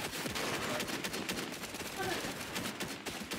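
Video game gunfire in a team shooter, with dense rapid bursts of shots crackling steadily throughout, a voice talking faintly among them.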